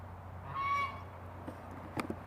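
A goose on a backyard farm gives a single clear honk, nearby and moderately loud, followed by quiet background with a few faint clicks and rustles.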